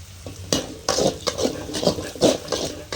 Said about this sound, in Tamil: வெங்காயத்தை மிக்ஸ் பண்ணி தாளிச்சிக்கணும்